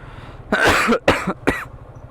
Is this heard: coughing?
yes